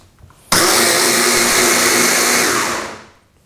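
A kitchen blender whirs loudly and steadily as it mixes a beef short rib marinade, starting abruptly and running at full power for about two seconds before winding down.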